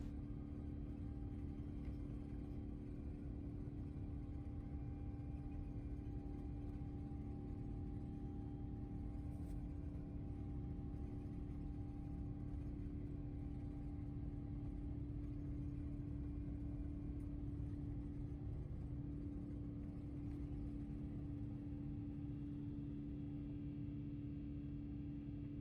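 Steady low cabin roar and hum inside a Cathay Pacific business class airliner taxiing and taking off from Hong Kong, a continuous broadband engine drone with no voices.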